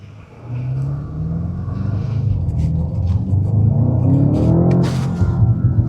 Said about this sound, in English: You can hear the V8 engine. You can hear the intakes, the turbo flutters.